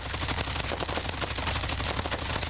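An XM4 rifle fires full-auto in a Call of Duty game while its recoil pattern is tested, producing a rapid, unbroken stream of loud, close gunshots for the whole stretch.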